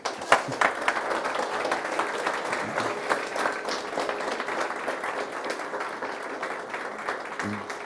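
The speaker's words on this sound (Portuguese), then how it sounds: "Palmas de novo, por favor." Sustained audience applause at a talk on love, a quiet but dense bed of clapping with a few sharper claps early on, fading slightly toward the end.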